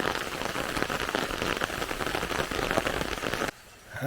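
Dense, steady downpour patters loudly on nearby surfaces along a trail in Khonoma, then abruptly drops away near the end before a fainter rustle returns.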